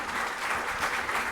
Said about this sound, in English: I want a round of applause for all the doctors and hospitals